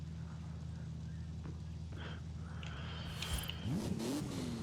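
A Volkswagen Beetle fitted with a wheelie bar and a big exhaust idles steadily in Forza Horizon 5, then revs hard toward the end, loud and close, with no voices.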